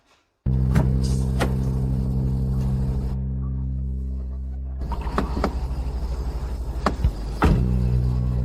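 A car engine idles steadily with a deep rumble, briefly quieting midway, then resumes with a few thunks like doors closing nearby.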